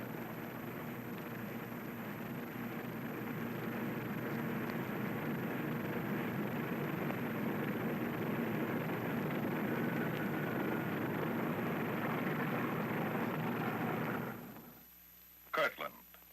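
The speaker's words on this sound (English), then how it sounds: "The bomber ready, it moves off to wait its takeoff time under double guard." Droning engines of a bomber aircraft taxiing off under guard, a steady, dense roar that holds for about fourteen seconds, then drops away abruptly and is followed by a few faint clicks.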